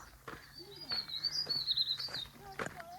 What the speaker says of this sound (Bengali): পাখির শব্দ